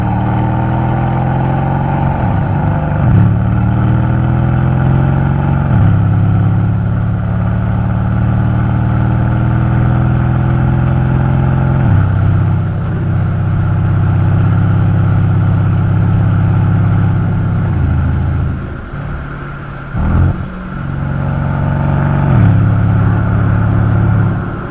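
A Mercedes C63S AMG with a rebuilt engine on a road test, a loud steady engine drone from inside the car with rising and falling revs through gear changes, continuous throughout.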